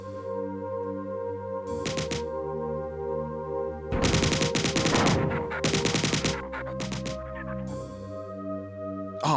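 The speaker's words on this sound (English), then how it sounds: "Oh, so many rockets." Rockets firing in the classic first-person shooter Marathon, coming as several loud, harsh bursts of rapid blasts separated by pauses, over a constant droning electronic hum.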